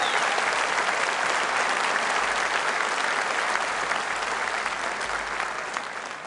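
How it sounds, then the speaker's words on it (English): A large audience at a political rally in Birmingham claps in a loud, dense, sustained wave of applause that holds steady and then begins to thin and fade toward the end. "Give Richard Tice a round of applause."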